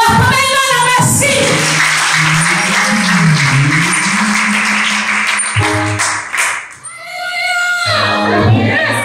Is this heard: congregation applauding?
yes